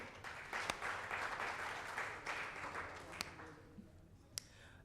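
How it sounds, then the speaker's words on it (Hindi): Applause from a seated audience at an open mic awards show, a soft, distant wash of clapping with a few sharper individual claps standing out, fading gradually over five seconds. "एक बार अपने लिए ताली बजा लीजिए।"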